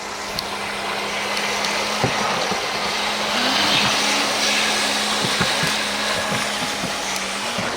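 A Thrasher V3 RC jet boat on 6S LiPo power whines steadily as it runs through shallow water around rocks, a continuous buzzing motor drone with slight surges.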